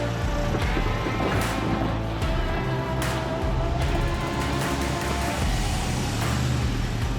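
A GMC Canyon pickup fitted with new suspension springs drives on a test drive, a steady engine and road rumble with wind noise and occasional bumps, loud and continuous.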